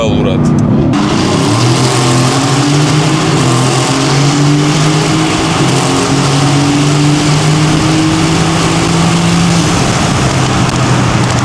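A Mercedes-AMG GT engine drones steadily and loudly while the car drives through Batumi, its tone holding firm with gentle shifts in pitch throughout.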